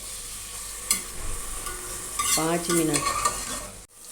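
Chopped onions sizzle steadily in a hot pan while a utensil scrapes and stirs them in bursts, close and fairly loud, with a brief spoken phrase; cooked for a mutton biryani.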